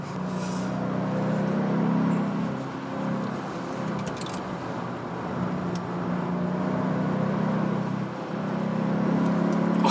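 Hyundai Sonata N Line running on a circuit, its synthesized virtual engine sound a steady loud drone with a gentle rise and fall in pitch under acceleration, mixed with road and wind noise, no talking.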